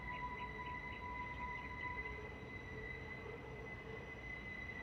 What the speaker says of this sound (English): It's a train braking over there.